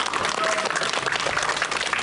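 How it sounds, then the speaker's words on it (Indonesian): An audience applauds on a studio television show, a continuous, fairly loud clapping crowd filling the short stretch. "Tepuk tangan lu dong."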